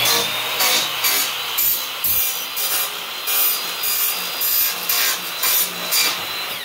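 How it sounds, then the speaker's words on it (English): A smaller hand saw rasps through wood in steady back-and-forth strokes, close and loud, each stroke a rough scratchy burst in an even rhythm. "I was using the other saw, the smaller hand version, and I was just straight chopping."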